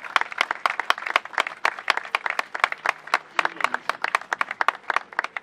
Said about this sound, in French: que nous nous levions pour applaudir l'artiste qui s'en va.